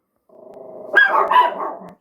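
Puppies barking and yipping in a short, close burst of overlapping high-pitched yaps and growly whines, rising after a softer opening.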